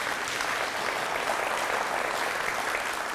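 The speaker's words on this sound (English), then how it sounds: "You all give them a big round of applause." Steady applause from a large audience at a school district State of the District event, a moderate, continuous wash of clapping with no pauses.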